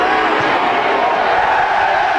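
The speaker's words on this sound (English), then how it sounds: "Good-natured boos from the crowd" Good-natured booing rolls through a packed stadium crowd at the 2008 rugby league Challenge Cup final between St Helens and Warrington, a dense continuous roar of many voices that holds steady and loud throughout.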